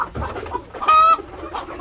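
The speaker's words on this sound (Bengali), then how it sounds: "এই মুরগিগুলো খাবার খাচ্ছে এখানে উঠে" Chickens eating paddy grain give a loud, clear cluck close by, standing out for a moment between softer scattered clucks and scratching.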